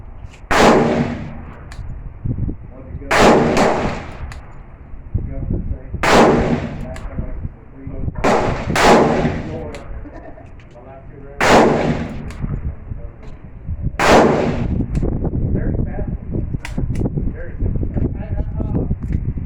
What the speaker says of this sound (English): Willie shooting the EAA Windicator